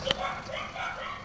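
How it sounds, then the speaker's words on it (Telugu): Several dogs barking in a video game about a lemonade-selling business, short yips and barks under busy game sound, a bit distant and mixed with other noise. "కుక్కలు కూడా అరుస్తున్నాయి కుప్పలుగా."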